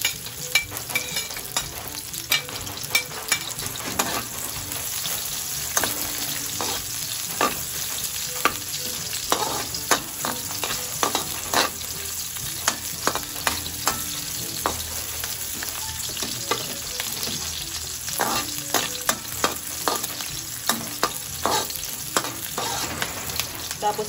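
Onions frying and being stirred in a pan while cooking papaya escabeche: a steady close sizzle runs throughout, broken by frequent sharp scrapes and clacks of the utensil against the pan, with no talking.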